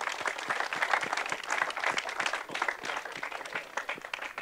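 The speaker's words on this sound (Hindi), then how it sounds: "ताली दियंतो प्लीज" Audience at a prize-giving ceremony applauding a winner, a steady crowd of many hands clapping continuously, fairly close and even throughout, with no talk over it.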